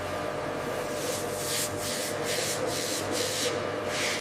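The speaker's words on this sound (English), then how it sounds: "Sanding removes tool marks," Rhythmic sanding on an onyx stone vase, repeated gritty back-and-forth strokes about twice per second over a low steady hum, close up with no talking.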